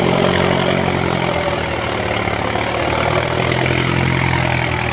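A tractor engine idles steadily at a field site where a tractor has become stuck. The low, even rumble is loud and close and runs unbroken throughout, with no talk over it.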